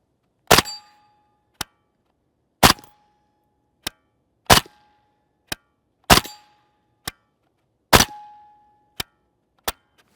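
Suppressed 5.7x28mm gunshots from Fiocchi 62gr FMJ ammunition fired through a 5.56 suppressor, eleven sharp cracks in a slow uneven sequence, loud and close, with no talking.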